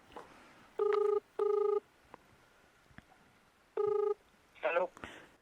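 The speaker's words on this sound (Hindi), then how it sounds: "तो इस फ़ोन से फ़ोन मिलाया जा रहा है तेजस भाई को।" A mobile phone call is placed on a mountain trek in north Pithoragarh. Three short, evenly pitched ringback tones sound close by, with brief gaps and faint background noise between them.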